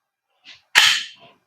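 A single sharp airsoft shot from a gas blowback gun during a velocity test, with a faint click just before and a brief decaying crack after, loud and close in otherwise quiet surroundings.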